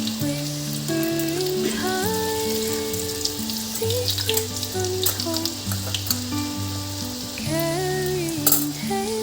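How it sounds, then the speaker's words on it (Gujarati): Mustard seeds, cumin and garlic sizzle steadily in hot oil for a Kathiyawadi dhokli curry, a loud continuous crackle with faint stirring and kitchen clatter throughout. "રાઈ, જીરું, લસણ નાખ્યું,"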